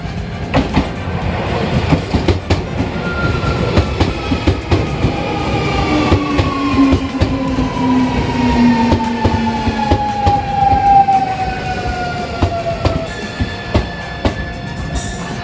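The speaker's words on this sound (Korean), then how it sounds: "6번째 열차가 역에 진입합니다" A train rolls into a station near Shimokitazawa, Tokyo, with steady rumbling and rhythmic wheel clatter, a long descending squeal of brakes rising over the noise, loud and close.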